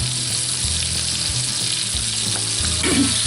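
Thin steaks fry steadily in a hot pan, a loud continuous sizzle with crackling bursts, heard alone without any talking.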